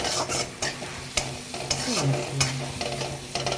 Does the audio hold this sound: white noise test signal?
no